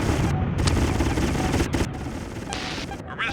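Sustained turret gunfire from the PS1 game G-Police, a dense, loud barrage of rapid shots and blasts continuing throughout with brief bursts of higher crackle.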